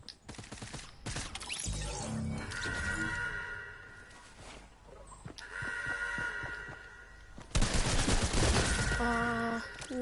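SMG fire in a video game: rapid bursts of automatic shots stutter in and out over several seconds, loud and close, with dense rattling volleys toward the end.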